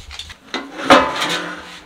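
Lid lifted off a cooking pot of dum-cooked mutton in a hotel kitchen, heard as a short metallic clatter and scrape with one louder clank, close and fairly loud.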